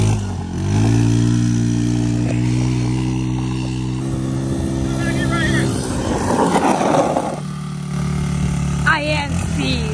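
A 1990s Kymco motorcycle engine idles steadily, then revs up in a rising, roaring burst before settling back, loud and close, with a person speaking briefly near the end.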